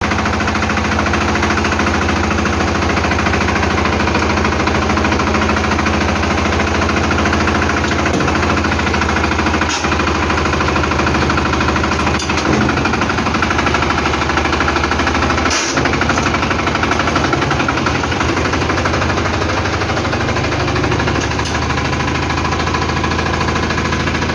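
A mini tractor engine, just reassembled after a breakdown, runs loud and steady throughout, a rough knocking chug with a few sharper clanks, close by and with no talking.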